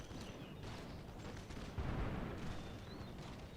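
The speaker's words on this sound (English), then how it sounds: "now the musketeers are opening fire" Musketeers fire in a Napoleonic-era strategy game depicting a Prussian battle, a faint, distant crackle of gunfire with dull booms that swell briefly midway through.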